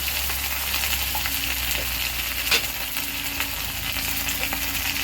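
Banana flower mixture with chopped chilli, ginger paste, salt and turmeric sautéing in a pan, a steady close sizzle and frying crackle running throughout with a few soft stirring scrapes and no talking.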